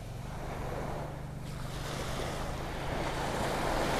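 Churning ocean surf on the Gulf coast at North Naples, Florida, rolls and hisses steadily, with gusty wind noise buffeting the microphone throughout.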